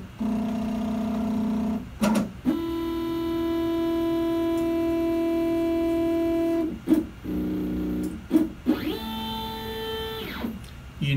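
Stepper motors of a desktop CNC carving machine whine in steady pitched tones as the gantry travels to its home position and then on to the work position, several distinct moves with brief pauses and rising and falling pitch sweeps.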